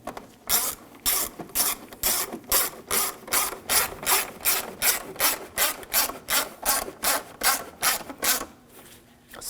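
A hand ratchet tightens screws on the air filter housing of a 2007-2013 BMW 328i 3.0L inline-six, giving a steady run of about twenty close, crisp clicking strokes at an even rhythm before stopping.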